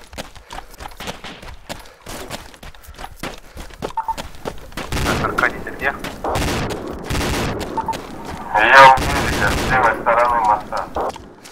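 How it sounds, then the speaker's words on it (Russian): Rapid bursts of gunfire in the military shooter Arma 2, with sharp cracks and sustained automatic volleys piling up loud and dense, while voices talk over the shooting. "Как по мне стреляют?"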